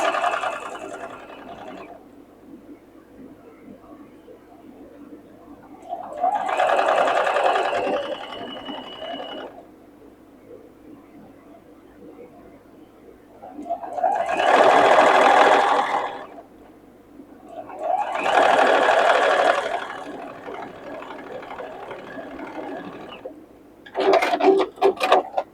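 A sewing machine stitches a circle bag in four separate runs of a few seconds each, separated by quiet pauses, with a short burst at the end; close by, steady whirring, no talk.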